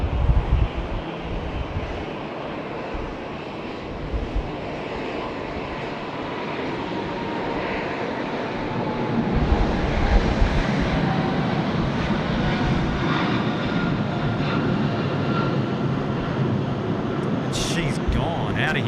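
An Air New Zealand jet airliner takes off from runway 34 left at Sydney Airport. A steady, loud engine roar builds and holds throughout, with wind noise and talk over it.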